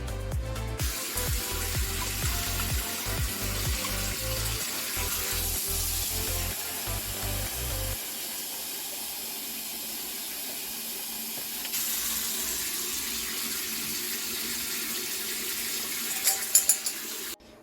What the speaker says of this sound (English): I need to top it off with just a teeny bit more water.